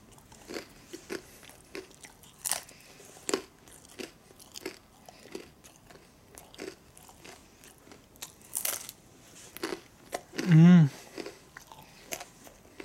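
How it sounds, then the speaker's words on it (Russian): Close, crisp biting and crunching of field-ration food, with irregular sharp chews coming in quick clusters and a brief low vocal sound near the end. "Нормально жевать не могу."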